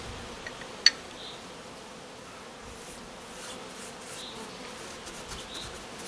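Honey bees buzz faintly and steadily around a 14-frame Spanish Layens hive outdoors, with one brief sharp click near the start.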